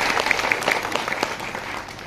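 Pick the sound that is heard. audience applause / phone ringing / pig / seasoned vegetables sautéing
audience applause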